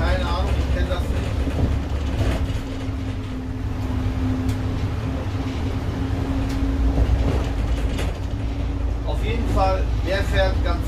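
Articulated tram car 639 rolling along with a steady low rumble and a faint tonal hum, continuous and close throughout, with squeals near the end.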